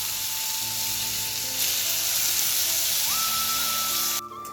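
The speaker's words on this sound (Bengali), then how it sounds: "আর আমি কিন্তু মুসুরির ডালটা আগে ভেজে নিই হালকা একটু তেল দিয়ে।" Red lentils fry in a little oil in a pan, giving a steady close sizzle that runs unbroken, with a faint tonal whine rising partway through before the sound cuts off abruptly near the end.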